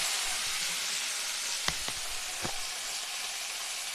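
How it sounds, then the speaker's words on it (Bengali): Diced tomato and fried onion sizzle in a pan, a steady bright hiss broken by three quick spatula taps against the metal as the mix is turned. "টমেটো দিয়েও আমি একটু নেড়ে দিচ্ছি"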